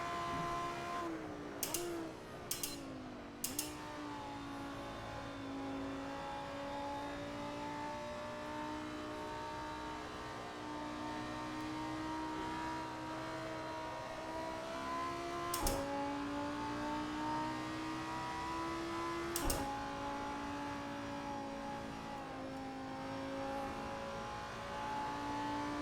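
A modern car in the Assetto Corsa racing game drives the old, bumpy Riverside circuit, its engine droning with steady tone that rises and dips as it revs, with a few sharp clicks and no talking.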